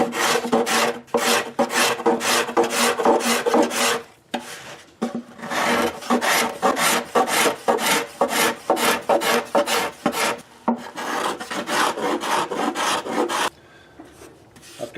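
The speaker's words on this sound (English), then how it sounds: "I've got the bindings mostly scraped down and sanded a little bit." A scraper and sandpaper work the binding around a guitar soundboard inlaid with abalone purfling, in loud, close, rhythmic rasping strokes that come in bursts with short pauses between.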